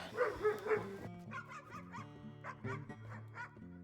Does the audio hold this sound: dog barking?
yes